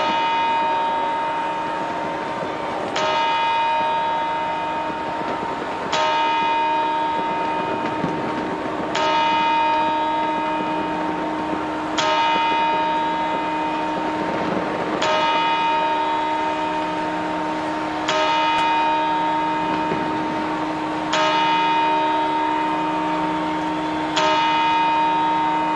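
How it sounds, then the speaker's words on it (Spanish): Church bell chimes at midnight on New Year's Eve: loud, resonant strokes struck evenly about every three seconds, each ringing over the lingering hum of the last, with no talk. "Y ahora todos preparados porque empiezan las campanadas."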